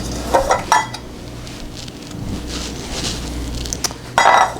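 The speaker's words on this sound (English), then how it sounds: "Let me get my cupcake tins." Metal cupcake tins clanking and clattering as they are handled in a home kitchen, a few sharp clinks early on and a louder rattling clatter at the end.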